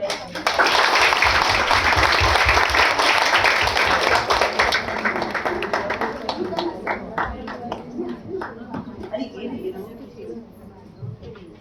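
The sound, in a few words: audience applause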